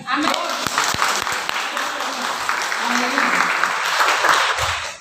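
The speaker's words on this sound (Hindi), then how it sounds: "पवित्र आत्मा के लिए ताली बजाएं।" A church congregation claps for the Holy Spirit during a worship service, steady dense applause with voices calling out over it.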